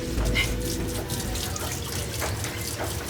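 A kitchen tap runs steadily while food is rinsed during a cooking competition at The Langham Hotel, a continuous splashing flow with faint background bustle.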